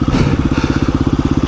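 A KTM 350 EXC-F dirt bike rides rocky trails, its engine loud and close with a fast, even chugging pulse that carries steadily throughout.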